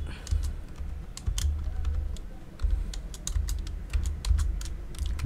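Computer keyboard keys clack in quick, uneven runs while text is typed, close and clear over a low background rumble.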